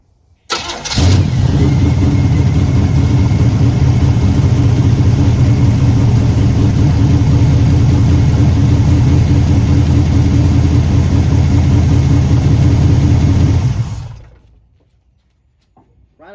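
A Camaro V8 on a Holley 750 carburetor, running off its float bowls with the fuel pump off, fires up and idles loudly and steadily up close for about thirteen seconds, then cuts off abruptly into quiet.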